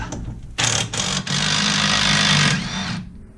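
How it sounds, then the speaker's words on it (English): A socket tool undoes a nut on Triumph Spitfire 1500 suspension, giving a loud, steady mechanical whirr for about two and a half seconds with a brief dip partway through, close by and with no talking. "Put the 18mm socket on the nut."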